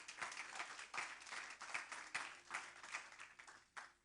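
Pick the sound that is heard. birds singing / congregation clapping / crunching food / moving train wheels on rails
congregation clapping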